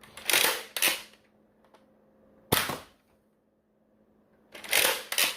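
An X-Shot Insanity Berzerko toy blaster fires in sharp, close plastic snaps, four bursts in all: two quick ones close together, a single crack a couple of seconds later, and another pair near the end, with quiet gaps between them.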